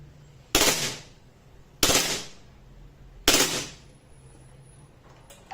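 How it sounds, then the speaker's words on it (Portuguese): A Rossi G17 airsoft pistol fires on green gas in burst mode, three sharp loud close bursts spaced about a second apart, each with a short rattling tail, and quiet between them. "Agora eu vou para o modo rajada no Green Gas."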